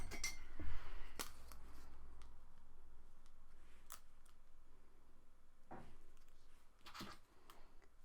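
Scissors snipping through paper for a planner layout: a few short, crisp cuts spaced out at close range against a quiet room, with no talking.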